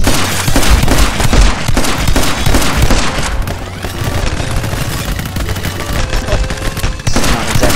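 Dense, loud gunfire from My Friend Pedro fills the whole stretch as rapid overlapping shots and booms, with no pauses and no talk.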